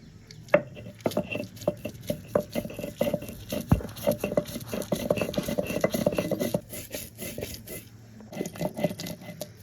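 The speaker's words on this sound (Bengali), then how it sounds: "এটা পুরোটাই বেটে নেবো অল্প একটু জল দিয়ে ভালো করে মিহি করে বেটে নিতে হবে" Cashews and poppy seeds ground with a little water on a grinding stone, giving close, irregular knocks and scraping pats that come in bursts, pause briefly, then resume, with no talking.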